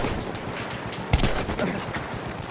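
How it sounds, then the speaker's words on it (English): A slug shotgun fires in Battlefield 1, one sharp loud blast cutting through a dense wash of battlefield noise and distant gunfire. "So we're using this shotgun right now. It's like a slug shotgun too."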